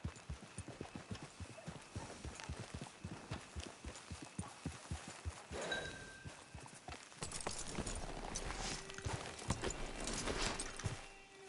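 Horse hooves clip-clopping in Red Dead Redemption 2, a steady run of close hoofbeats that later sit under a rising bed of outdoor ambience.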